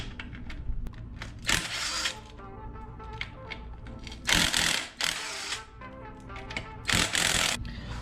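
Clutch mounting bolts come off a Coleman CT200U-EX minibike with close, quick mechanical clicking and ratcheting, broken by three louder bursts of tool noise.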